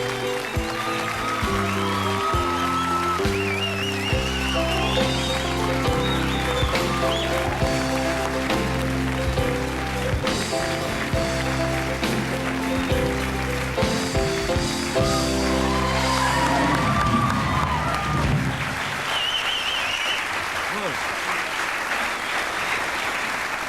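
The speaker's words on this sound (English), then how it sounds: "Put your hands together for Mr." A television studio audience applauds a performer on a 1991 Australian Saturday variety show, a steady, loud wash of clapping that holds under a band playing music throughout before thinning toward the end.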